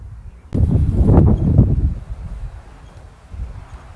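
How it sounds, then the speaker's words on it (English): Wind blowing outdoors, a low rumbling gust buffeting the microphone that swells abruptly, holds for about a second and a half, then eases into a softer steady roar. "There's a bit of wind here, and I love wind."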